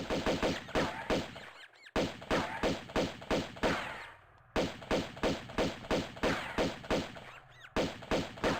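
Rapid, steady rhythmic gunfire from Tomb Raider II, aimed at a rat, sounds close and loud in fast bursts with two brief pauses.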